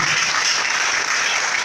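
A church congregation applauds steadily, filling the room with a continuous wash of clapping that holds at an even loudness throughout, with no voices standing out.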